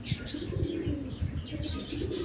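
A female patta pigeon with white markings coos quietly alongside other pigeons, giving faint, low, repeated throaty pulses with no talking.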